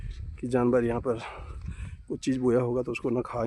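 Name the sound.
dog barking in the forest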